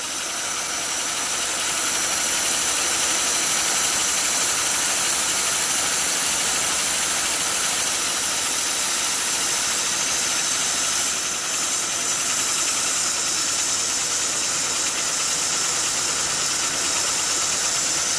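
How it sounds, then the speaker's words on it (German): A model steam engine fed by a vertical fire-tube boiler with a ceramic gas burner runs steadily, giving a loud continuous hiss and rapid mechanical chugging that holds for the whole stretch with no talking. "Dampf wird geöffnet und die Maschine saust los."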